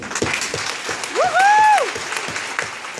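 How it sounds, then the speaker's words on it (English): Audience applause, a dense patter of many hands clapping at a steady level, with a whoop rising out of the crowd partway through. "Give yourselves a hand."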